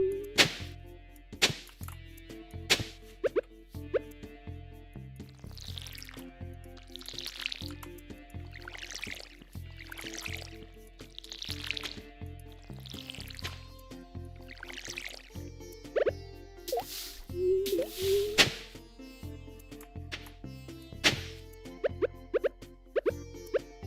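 Hoeing and watering crops in Stardew Valley: a steady series of soft plops, chops and drippy watery tool sounds repeating every second or so, alongside gentle game music.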